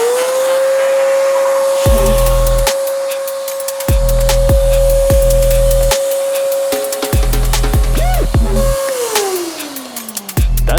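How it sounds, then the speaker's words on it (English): A vacuum cleaner works over a car's interior carpets with a loud, steady whine, broken by repeated scraping and rubbing strokes as the nozzle is pushed back and forth, and the motor pitch falls as it winds down. "the first thing that you have to do is actually vacuum them to get rid of all the heavy debris"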